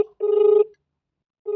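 A telephone rings over a speakerphone as a call is placed, with two trilling ring bursts separated by a pause.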